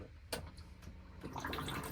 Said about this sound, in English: Once you're done, you'll hit this flush button here,